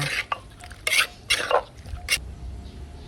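Thai spicy beef salad being tossed and mixed in a bowl, several short scraping, clattering stirs in separate bursts with quiet gaps between, close and moderately loud.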